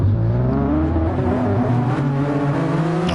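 GT3 race cars run on hard tyres during qualifying at Brands Hatch in a racing game, their engines droning loudly and steadily with a shifting, revving pitch throughout.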